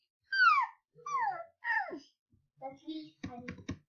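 A person imitates a sad puppy, making a series of high, falling whimpers and whines, ending with a short breathy sputter.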